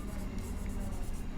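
Chalk or marker scratches briefly across a classroom board while a condition is written out, a short close scraping stroke with faint room noise.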